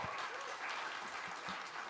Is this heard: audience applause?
yes